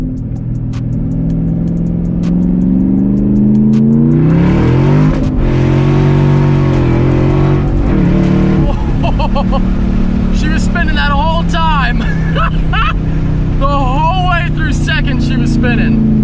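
A modified Ford Mustang GT500 accelerates hard, its loud engine roaring up through the revs with a gear change partway through, heard from inside the car, while someone talks and exclaims over the noise.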